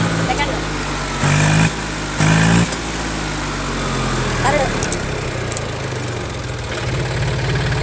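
A tractor engine runs in gear with a noisy differential housing, a loud, steady engine drone with brief louder surges, close by, while someone talks over it.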